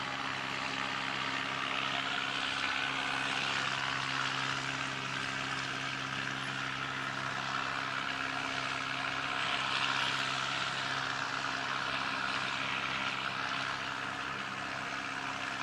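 A Fiji Airways airliner at Christchurch Airport, its engines producing a steady, sustained drone with a broad airy roar that swells slightly midway, heard from a moderate distance with no talking.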